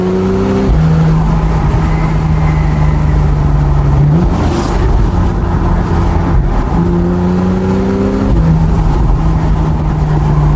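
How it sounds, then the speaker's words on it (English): Engine and exhaust of a BMW M4 droning steadily while driving, heard from a following Porsche 911, with pitch climbing through gears and a brief dip between shifts; loud and continuous, no talk. "listen to the exhaust"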